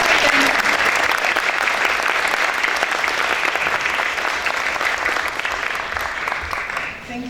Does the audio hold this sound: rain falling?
no